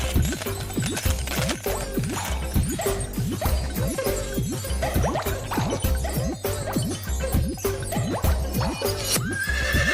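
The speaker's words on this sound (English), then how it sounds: "I spy a horse." A horse whinnies again and again in rapid, rising-and-falling neighs over a continuous clip-clop of hooves, loud and close with no voices.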